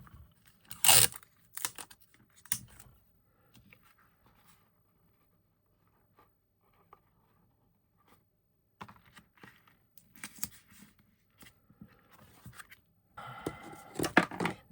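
Sticky tape tearing during card-making: a few short, sharp ripping and crackling bursts at the start and again near the end, separated by quiet stretches with small handling clicks and no talk.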